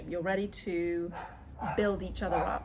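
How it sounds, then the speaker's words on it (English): Dog barking indoors, several close yapping barks in quick bursts overlapping someone speaking steadily. "sorry about the dog barking"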